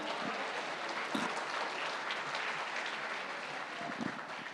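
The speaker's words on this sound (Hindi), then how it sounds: "बहुत जोरदार तालियां" Loud applause fills a large summit hall after a yoga session led by Baba Ramdev, a dense steady wash of clapping with a few sharper claps standing out.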